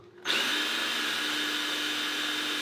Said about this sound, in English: I had the drill speed on 1 instead of 2, so here goes nothing